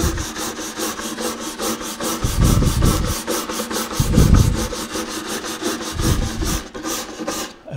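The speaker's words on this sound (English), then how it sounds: "we're just taking our wire brush and we're just scrubbing on our finish" A wire brush scrubs rhythmically across oak wood, with loud, rapid back-and-forth rasping strokes close up and heavier bursts of pressure.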